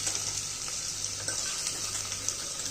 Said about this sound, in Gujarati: શાકભાજી સાતળી ગયું છે એકદમ